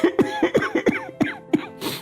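An elderly man in a family home during hot weather coughs in a close, harsh series of about eight rasping bursts, each short and separated by brief pauses, ending in a breathy exhale.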